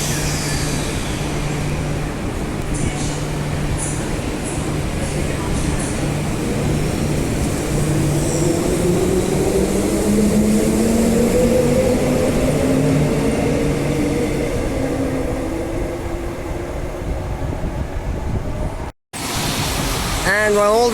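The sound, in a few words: train departing from station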